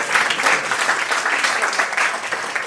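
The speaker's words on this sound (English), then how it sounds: "Let's also give a round of applause for all of the folks who are serving us today" Guests at a restaurant event on Capitol Hill give servers a round of applause, a dense, loud burst of many hands clapping together with no talk over it.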